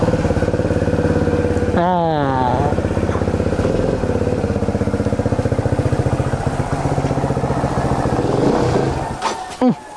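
A Rusi Flash 150X motorcycle engine runs steadily up close, its low rumble continuous throughout, with a brief rising whine early on and a sharp knock near the end.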